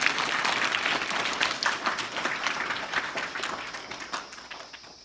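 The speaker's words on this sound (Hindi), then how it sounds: "इसके लिए हम सभी इनका एक बार जोरदार तालियों से स्वागत करते हैं" A school audience gives a guest a hearty welcome, sustained crowd clapping that starts loud and gradually thins and fades toward the end.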